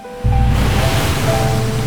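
A humpback whale breaching in warm migration waters strikes the surface with a sudden loud crash, followed by a sustained, close broadband roar of churning water and spray.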